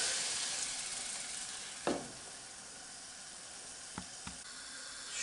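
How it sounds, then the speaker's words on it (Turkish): Grape-molasses syrup poured over toasting flour halva with hazelnuts sizzles in a steady, close hiss, with a few brief bursts and scraping knocks as the mixture is stirred in the pan. "Şerbetimizi tekrar döküyorum. Karıştırıyorum."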